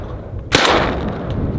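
A single sharp shotgun blast fired at incoming ducks on a hunt, a loud sudden crack followed by a rolling outdoor echo that fades slowly.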